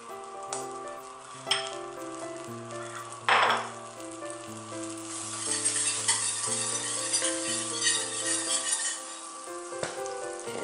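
Butter sizzling in a pan over medium heat as a roux for turkey pot pie begins, a steady crackle with a couple of sharper knocks from a utensil and a low background hum.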